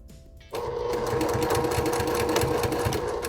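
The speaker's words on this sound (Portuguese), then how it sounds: "Vou começar costurando primeiro aqui, da parte do tecido principal" Sewing machine running steadily while stitching the main fabric of a small coin purse, a close, continuous rhythmic whir with a regular needle pulse, starting abruptly after a brief quiet moment.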